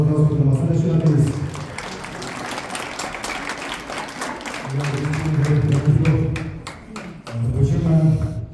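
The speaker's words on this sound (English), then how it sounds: "Can you have a round of applause for the masala chef?" Audience applause for a masala chef at a trade skills presentation, a steady wash of clapping running under a voice that keeps talking through most of it.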